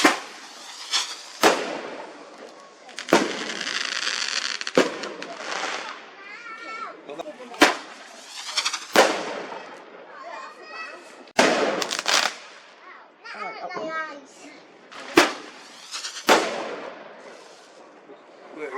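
Fireworks at Lascelles in Darlington go off in repeated sharp bangs and crackling bursts spaced every few seconds, loud and close, while people and children chatter and exclaim between the explosions.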